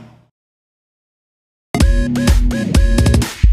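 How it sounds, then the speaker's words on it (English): A dance song plays back loud and punchy with heavy bass thumps and layered synth tones, starting abruptly after a brief silence. "The song that I actually have pulled up here is a dance song"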